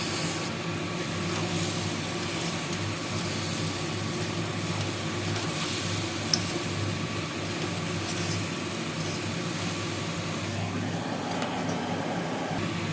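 Prawns go into a hot pan of oil with chillies and garam masala for Bengali doi chingri. A steady, even sizzle hisses throughout at moderate level, with no voices over it.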